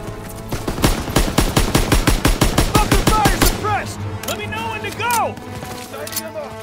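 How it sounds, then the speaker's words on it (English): Machine gun fire in the Call of Duty WWII Hill 493 mission rattles in a fast, loud, close burst for about three seconds, followed by shouted voices and battlefield noise. "Gotta suppress the machine gun!"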